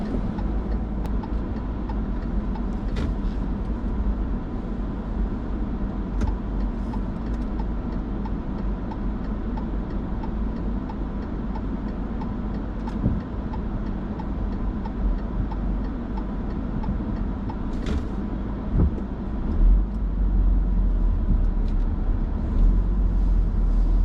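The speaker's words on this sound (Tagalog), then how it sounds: "Ay, grabe yung traffic dito, di makaya." Road traffic heard from inside a car during flooding, a continuous low engine and road rumble with occasional faint clicks, no talk.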